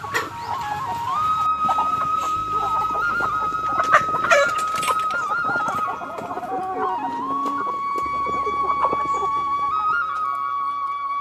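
Chickens cluck steadily at a village home, with a rooster's crow and other fowl calls mixed in, fairly close and continuous.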